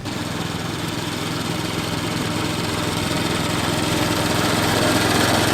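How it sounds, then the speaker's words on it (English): A powered reel lawn mower with rollers cuts grass at a low height, giving a steady, close engine drone with a whirring blade hum that continues unbroken with no talk. "the quality of cut with that mower, with the rollers, with the reel"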